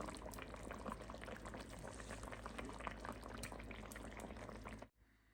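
A fish and brinjal curry simmers in a pot to thicken the gravy, steady close bubbling and popping throughout, ending with a sudden cut to near silence.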